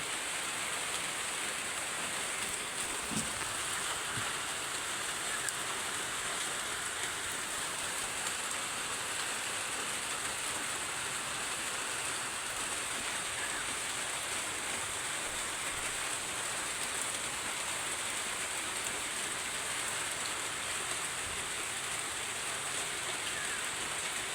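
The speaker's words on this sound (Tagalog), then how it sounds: "Ayan no, walang tigil ang ulan." Heavy, steady afternoon rain falls without pause, a dense hiss of drops on surfaces filling the whole stretch at an even, loud level with no other sounds standing out.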